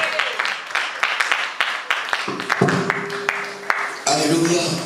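Church congregation clapping for a pastor, a stream of sharp claps with crowd noise and voices rising underneath, fairly close and loud, building toward the end.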